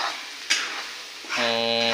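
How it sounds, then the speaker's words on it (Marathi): Ground masala paste of onion, garlic, ginger, coriander, poppy seeds and coconut sizzles steadily as it is stir-fried in a pan for fish curry. A single clatter comes early, and a sustained humming tone joins the frying near the end. "आता हा मसाला मस्त आता परतवून घ्यायचा या मसाल्यामध्ये ह्या वाटणामध्ये"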